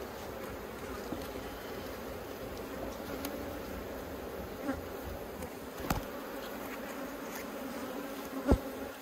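Honeybees hum in a steady, dense drone from an open hive during a full inspection, close to the microphone. A few soft knocks and clicks of frames being handled sit over the buzz.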